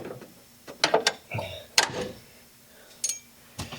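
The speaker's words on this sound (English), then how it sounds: "I'm gonna grab a wrench." A wrench working on bolts of a car's brake booster or master cylinder at a pedal assembly, a few short sharp metallic clicks and ratchet clanks with pauses between them, close and moderately quiet.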